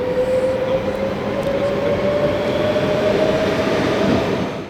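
Trains departing Utrecht Centraal station rumble steadily throughout, with a sustained rolling roar and a faint high-pitched wheel squeal running across the whole stretch, loud and continuous with no talk.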